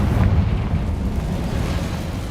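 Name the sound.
Confringo spell explosion from Hogwarts Legacy video game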